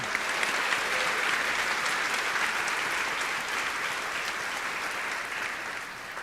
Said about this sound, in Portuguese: Vamos aplaudir o nome de Jesus então?